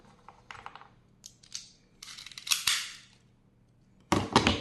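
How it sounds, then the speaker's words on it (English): A Unitacker 3 in 1 staple gun snaps several times, sharp metallic clacks in quick bursts with a brief rattle of handling between them, close and moderately loud, no talk. "That's our new staple gun."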